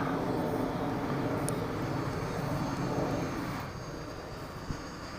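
A Freewing F-18 RC model jet flies at full throttle, its ducted-fan engine giving off a steady, loud broadband roar that softens slightly toward the end.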